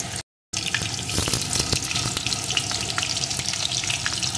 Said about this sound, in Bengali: এখন এই তেলের ভিতরে দিয়ে দেবো টুকরো করে কেটে রাখা আলু